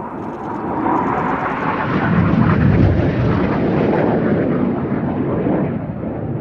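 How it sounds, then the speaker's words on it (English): Aerobatic aircraft turning hard toward each other at the Midlands Air Festival display, a loud continuous broad engine roar that swells in the middle and eases slightly, with no voices over it. "Each aircraft now pulling up to 5G, once again turning hard to each other"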